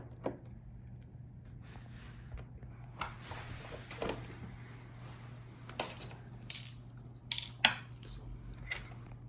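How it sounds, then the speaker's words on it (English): Small screws being undone from the bottom cover of a Lenovo Yoga C640 13IML laptop, heard as scattered light metallic clicks and taps close by over a steady low hum. "Now let's unscrew these screws on the bottom."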